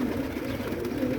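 Newly hatched small red birds chirp and peep continuously and fairly close, making a steady, busy chorus. No voices are heard.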